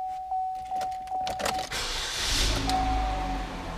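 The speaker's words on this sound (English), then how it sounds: "Here's your window controls." Power windows on a used Chevrolet HHR whir up and down in several short motor runs, close and fairly loud, alone with no talk.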